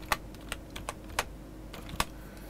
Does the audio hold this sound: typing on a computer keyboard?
yes